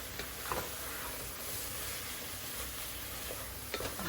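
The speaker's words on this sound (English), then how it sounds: "mix everything in" Taco puff filling being stirred through in a pan, with a low, steady sizzle and faint scraping of the spoon plus a couple of brief clinks, fairly quiet and with no talking.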